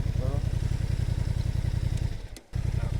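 A motorcycle engine running, a loud close rumbling idle with a rapid steady pulse that dips and cuts out briefly before picking up again.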